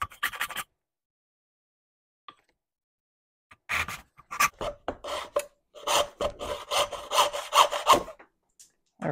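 A hand saw cuts through an animal horn being made into a powder horn, a short stroke, a pause, then bursts of rasping back-and-forth strokes, close and dry, growing steadier toward the end.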